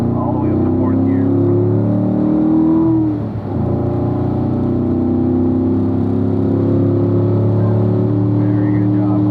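Car on a racing school track pulling hard at full power through the gears to fourth, a loud steady engine drone with rising harmonics and a brief dip at a shift, an instructor's voice over it.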